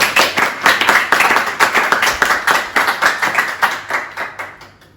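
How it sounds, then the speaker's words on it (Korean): Loud, dense applause from a church congregation during a Korean Thanksgiving Sunday worship service, many hands clapping steadily for about five seconds before thinning out slightly at the end. "우리 주님을 먼저 우리가 찬양하면서 그분 앞에 영광의 박수를 한번 올려드리면 좋을 것 같아요"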